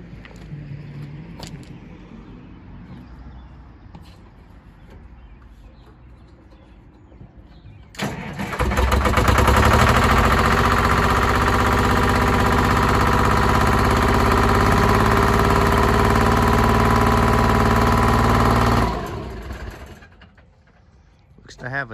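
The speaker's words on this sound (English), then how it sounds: "We're gonna start it and show you the motor run for a few seconds anyways." Quiet talk gives way to the Detroit Diesel engine of a GOMACO GT6200 Commander II paving machine cranking and catching, then running loud and steady for about ten seconds before shutting off.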